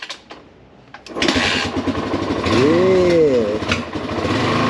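Yamaha XT350 motorcycle, about 30 years old, kicked over until its single-cylinder engine catches and settles into a steady, loud idle, with a brief revving surge midway; someone speaks briefly near the start.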